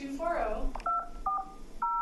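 A telephone keypad sends DTMF tones to enter a conference ID: a recorded voice speaks first, then three separate two-tone beeps follow with short pauses between them.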